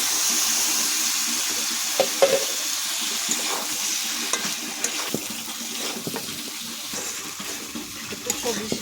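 Vegetables fry in spiced masala for a fish curry with winter vegetables, a continuous close sizzle with occasional scrapes and knocks of stirring in the pan.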